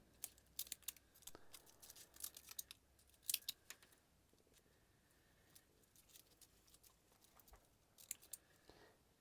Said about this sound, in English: I'm trimming off all these leaves with some snips